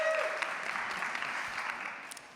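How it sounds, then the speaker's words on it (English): Audience applause at a creator fireside chat, a steady wash of clapping that stays fairly even and fades slightly over a couple of seconds, with no talk over it. "applause for them"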